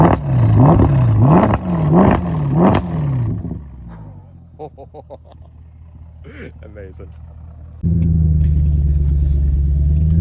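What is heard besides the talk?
Mercedes-Benz ML63 AMG engine revving and accelerating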